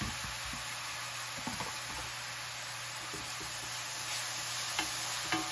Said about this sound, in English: We're gonna let these bananas cook for